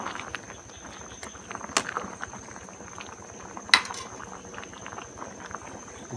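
Thai curry with young palmyra palm fruit boils in a pot, a soft steady bubbling with scattered light metallic clinks of a utensil and faint insect-like background chirring, no talking.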